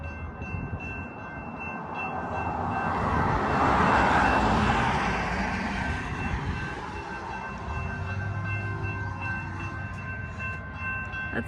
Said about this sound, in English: Looks like we're about to get a train.